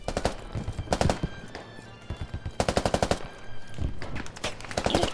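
Rapid bursts of automatic gunfire in the game Squad on the Al-Basrah map in Unreal Engine 5, several volleys of fast cracks in quick succession, loud and close.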